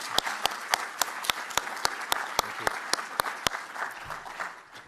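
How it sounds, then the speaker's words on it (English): Applause at a news conference, a modest audience clapping with distinct individual claps standing out in a steady patter that thins toward the end. "give this guy a big round of applause"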